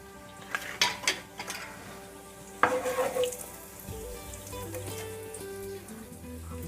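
Whole cloves and black peppercorns go into hot oil with cumin and asafoetida: metal utensils clink first, then a soft sizzle rises and settles into a low, steady fry.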